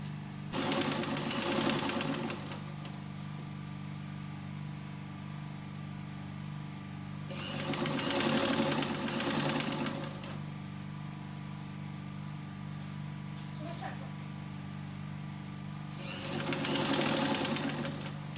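Sewing machine stitching a maxi gown with straps, three bursts of rapid mechanical whirring separated by pauses of quieter hum, fairly close.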